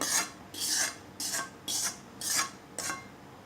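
A spoon scrapes cooked sonpapdi mixture of sugar syrup from a pan into a large plate, six separate rasping strokes in an uneven rhythm, close and clear with no voices.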